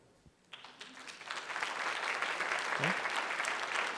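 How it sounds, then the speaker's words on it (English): A conference audience breaks into applause at a culture-based education event, starting with a few scattered claps and swelling into steady, sustained clapping from a large crowd. "So I would like to applaud him."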